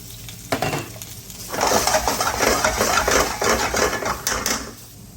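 Garlic sizzles in a pan, building to a busy, crackling fry with stirring clatter of utensil against metal, close and fairly loud before tapering off.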